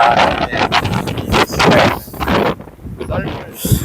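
Strong wind buffets the microphone on a sheer sea-cliff face at Beomseom island during rock fishing for large-scale blackfish, a steady roaring gust with rustling noise throughout and someone talking over it.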